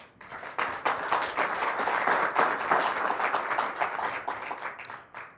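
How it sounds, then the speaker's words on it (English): A conference audience gives its hosts a round of applause, a dense burst of clapping that rises quickly, holds loud and full for several seconds, then tapers off near the end. "I want you to join me to get a round of applause for your hosts who put this program"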